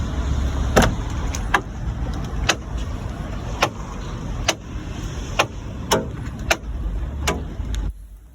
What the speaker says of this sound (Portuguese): Quando você vai abrir a porta de um Fiat, ela falta gritar de tanto barulho que ela faz, estralando ali o limitador da porta.